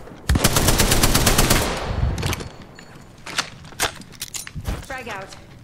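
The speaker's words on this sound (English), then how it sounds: "I'm spotted, taking fire." Rapid automatic gunfire in the battle royale shooter Apex Legends, a dense burst of shots up close followed by scattered single cracks and short bursts, with a player talking over parts of it.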